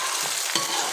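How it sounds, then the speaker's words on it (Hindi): Two large finely chopped onions frying in hot oil for a biryani, a steady broadband sizzle with a couple of brief stirring scrapes, close and fairly loud, no voices. "अब इसमें हमारे पास 2 प्याज है बड़े बारीक कटे हुए, ये डाल प्याज डालने के बाद इसको हल्का सा हमने ब्राउन करना है"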